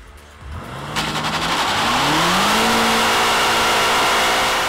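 A 2018 BMW M5 in rear-wheel drive mode accelerating hard on an empty closed road, its engine note rising steeply in pitch and swelling into a loud, sustained roar as the rear wheels spin.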